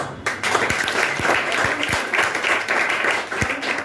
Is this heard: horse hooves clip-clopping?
no